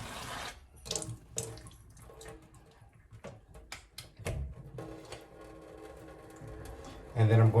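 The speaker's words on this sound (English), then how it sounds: "I'm going to fill another with water." Tap water running into a balloon, starting after some rustling and handling and swelling into a louder, steady gush near the end while a person talks.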